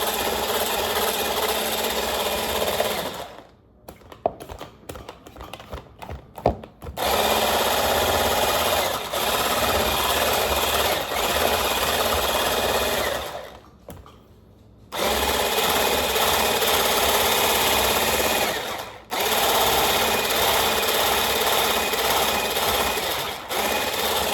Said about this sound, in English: You're just gonna mix this until it's fully done. Hopefully you have a better mixer than me.